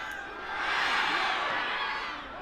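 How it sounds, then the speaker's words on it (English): Stadium crowd at an NCAA women's soccer quarterfinal between BYU and UNC, a broad wash of cheering that swells in the middle and eases off near the end, with no voices standing out. "Crowd gets excited."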